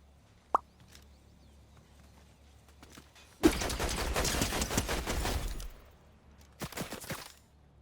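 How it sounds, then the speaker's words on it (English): Gunfire in a Fortnite Zero Build match, a sudden burst of rapid shots lasting a couple of seconds, then a shorter second burst, with faint isolated pops before. "Shooting going on over here."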